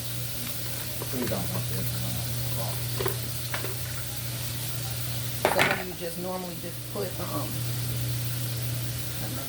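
Patties for White Castle copycat cheeseburgers steam-fry in a hot pan, a steady hiss running under people talking, with scraping and clinking of a utensil against the pan near the middle.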